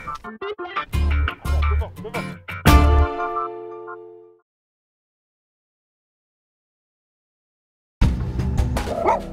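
Sled dogs bark and yip in a burst of sharp, loud calls close by, then go silent for several seconds before more barking and yapping resumes.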